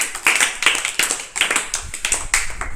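Children clap in a classroom during a maths lesson on shapes, giving a brisk, close run of about a dozen sharp, evenly spaced claps.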